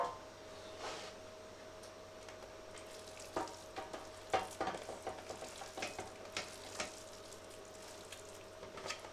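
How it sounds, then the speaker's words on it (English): Hot turkey sausage sizzles faintly in a frying pan as a steady low hiss, with scattered stirring clicks and scrapes of a utensil against the pan. "putting the hot turkey sausage in, it just brings out a really, really delicious flavor. We're going to put that into the pan."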